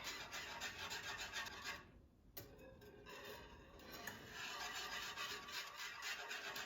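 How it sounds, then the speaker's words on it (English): A metal whisk scrapes and rubs steadily against the bottom of a non-stick pan while stirring a thickening chicken pot pie casserole filling, a close, fairly quiet rasping with a brief pause midway. "I'm going to be gentle, but I'm going to use my whisk."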